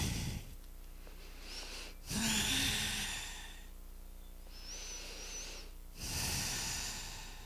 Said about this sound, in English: Nice big inhale.